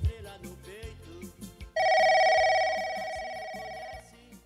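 A telephone rings loud and steady for about two seconds as a listener calls in to a live Brazilian radio sports show, preceded by faint studio sounds.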